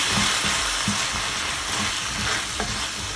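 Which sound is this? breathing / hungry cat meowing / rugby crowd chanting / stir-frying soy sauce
stir-frying soy sauce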